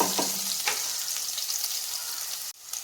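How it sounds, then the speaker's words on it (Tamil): Small shallots sizzle and crackle in hot oil, a steady frying hiss with a few clinks of stirring near the start, while cooking a spinach side dish. "சின்ன வெங்காயம் ஒரு 5-6 வெங்காயம் நறுக்கி வச்சுருந்தேன், அதை போட்டு வதக்கலாம்"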